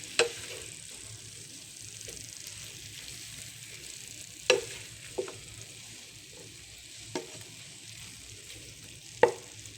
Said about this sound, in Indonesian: Nah sekarang kita goreng tahunya